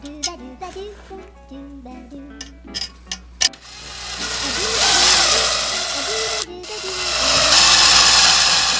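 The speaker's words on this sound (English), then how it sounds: "I got my screw gun. I'm gonna try to screw that right into the carpet," Cordless screw gun driving screws into carpet beneath a bass drum pad, heard as sustained whirring runs of a few seconds each after some earlier clicks and knocks, fairly loud and close.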